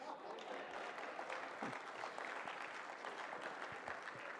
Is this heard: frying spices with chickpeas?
no